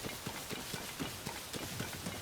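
Horses galloping in Zelda: Tears of the Kingdom, a steady rapid clip-clop of hooves with a rolling rhythm, fairly close and alone without speech.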